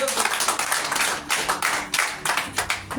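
A church congregation claps along at a Portuguese-language sermon, with rapid, rhythmic bursts of hands in repeated waves, loud and close, with brief pauses between the volleys.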